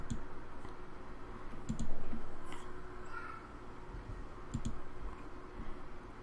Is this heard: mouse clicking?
yes